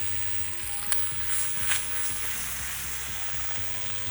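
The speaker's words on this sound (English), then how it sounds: "You just want to get this butter nice and foamy, and then we're going to baste it all over the steak" Butter foams and sizzles in a hot pan while a steak is basted, a steady moderate frying hiss with a couple of small clinks from the spoon against the pan.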